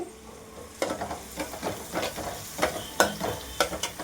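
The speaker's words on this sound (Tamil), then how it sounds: "ஆனியன் வதங்கட்டும்." Onions sizzle steadily in a pan while a spoon stirs and scrapes repeatedly, close up, with a soft continuous frying hiss beneath.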